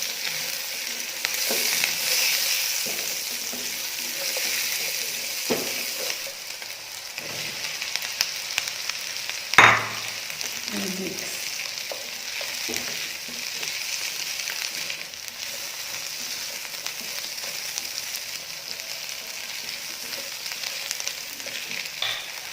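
Chopped onion sizzles steadily in a hot pan, a continuous bright frying hiss with occasional clinks and scrapes, one louder knock near the middle, close up and without speech.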